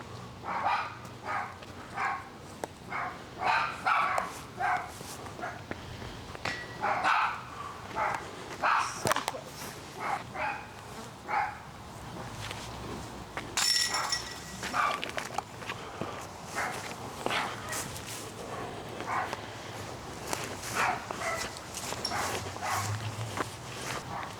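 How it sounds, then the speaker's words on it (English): Dogs bark repeatedly near a disc golf course, a string of sharp, fairly loud barks spread through the stretch with brief gaps, mixed with footsteps and outdoor background. "I pissed off the dogs."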